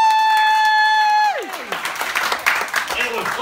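A falling sustained tone gives way to a short burst of applause from a small audience at a martial arts yellow belt presentation, clapping that runs loosely to the end.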